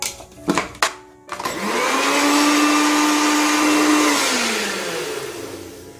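A mixer grinder re-grinds dosa batter for a masala dosa, starting with a few knocks before the motor spins up into a loud, steady whine for several seconds, then slowing as it winds down.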